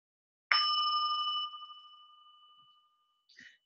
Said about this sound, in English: I love to start and end with a bell because I believe in beginnings and endings.